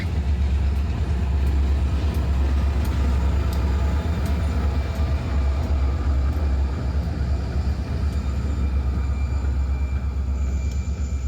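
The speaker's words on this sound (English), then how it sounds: "Here we catch CCO3 doing some yard switching." An SD40 diesel locomotive works a rail yard, switching and assembling railcars near an industrial park, its heavy engine drone and low rumble steady and close, with faint metallic squeals and clanks above.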